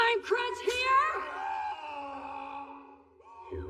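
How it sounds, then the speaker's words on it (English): Anguished screaming from an anime episode, one long strained cry that rises sharply then wavers and fades over several seconds, with a second shout starting at the end. "The screams seem a lot louder than they were when the captain did it."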